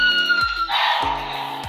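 Premium DX Boost Raise Buckle transformation toy sounding an electronic effect, a bright tone followed by a whooshing burst and short low pulses, loud and close with no talking.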